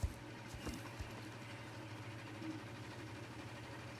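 A tractor engine idles in the horse-riding video game Star Stable, a low, steady, faint rumble with a few soft thumps near the start.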